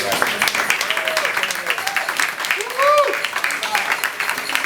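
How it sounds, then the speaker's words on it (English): Audience applause at a private film screening, a dense steady patter of many hands clapping at moderate level, with a few faint voices and whoops rising briefly over it. "I'd like us to give him a round of applause"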